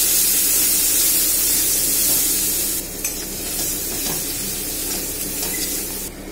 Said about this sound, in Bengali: মশলাটা একটু ভালো করে নাড়াচাড়া করব।